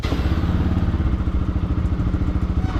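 A Bajaj Pulsar NS200 motorcycle engine runs steadily up close, its low rhythmic chugging loud and continuous with a few light clatters and thumps.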